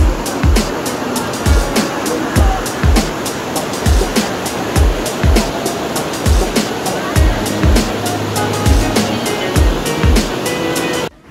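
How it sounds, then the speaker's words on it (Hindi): Rushing water from a waterfall on the Adrai jungle trek near Pune in monsoon, a constant loud wash broken by regular low thumps, with no speech. "ये लास्ट वाटरफॉल है अदराय जंगल ट्रैक का"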